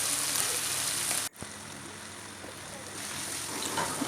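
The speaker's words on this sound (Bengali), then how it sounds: "দেখো বন্ধুরা, মশলা কিন্তু এখানে খুব সুন্দর করে কিন্তু আমি ভেজে নিচ্ছি।" Spice paste and tomato frying in a pan, a loud continuous sizzle close by, briefly cut off near the start before it resumes and runs steadily to the end.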